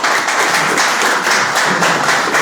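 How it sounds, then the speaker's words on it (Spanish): An audience applauding at a book presentation at the Havana international book fair, dense steady clapping from many hands, loud and close throughout. "Bueno, un aplauso."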